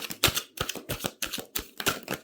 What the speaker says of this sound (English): Do a couple more shuffles here.